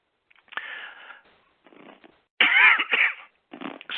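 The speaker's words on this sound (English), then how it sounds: "Just talking about contaminants makes me cough." Several short, harsh coughing bursts from one person, spaced across a few seconds, close and fairly loud with quiet gaps between them.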